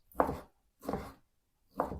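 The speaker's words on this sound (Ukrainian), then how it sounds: "І знайшла в себе в холодильнику ковбаску," Three separate knife chops through sausage on a board, spaced about three-quarters of a second apart, close and crisp, with silence between them.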